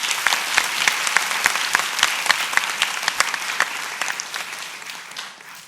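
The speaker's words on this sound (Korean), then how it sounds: "다시 한번 뜨거운 박수를 보내고 싶습니다" Warm audience applause for Team KAIST's robotics effort, dense clapping with a few sharper individual claps standing out, tapering slightly toward the end.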